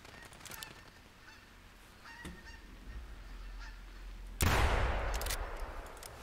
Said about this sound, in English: Can you hear more geese, or is it the ones that are flying off?